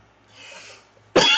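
A single sharp, loud cough bursts out near the end, preceded by a faint murmur of background noise, close and abrupt.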